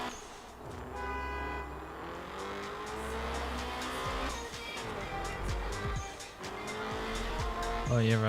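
In the Night-runners Prologue video game, a car drives with a steady engine drone while its tires repeatedly squeal and skid in long whining streaks, ending with a louder screech.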